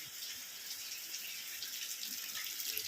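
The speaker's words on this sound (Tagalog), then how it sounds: "May ulan guys!" Steady, hissing patter of rain falling nearby, a dense wash of drops with no voices.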